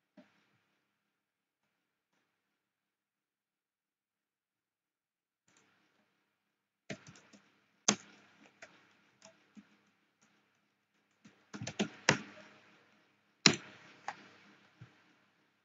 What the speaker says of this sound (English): Next, we will type the following command.